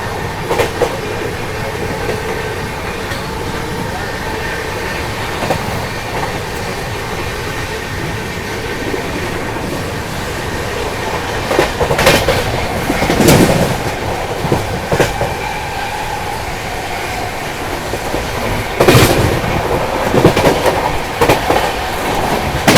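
The Humsafar Express from Rameshwaram to Firozpur speeds through Dornakal Junction railway station, a loud, steady rumble of wheels heard from on board with clattering bursts over points, unbroken for over twenty seconds with no talk.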